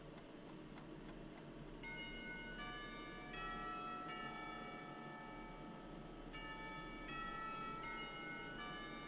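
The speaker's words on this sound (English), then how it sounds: "The lunch bell sounds" A school lunch bell in the game Katawa Shoujo rings in repeated clear chimes, the tones overlapping and sustaining in a quiet room, with a faint hum underneath.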